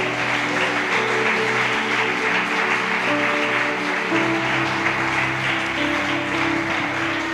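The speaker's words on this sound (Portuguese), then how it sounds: "aplauda ao Senhor Jesus Cristo" A church congregation applauds together in steady, dense clapping that fills the room, with sustained tones from instruments or voices running underneath throughout.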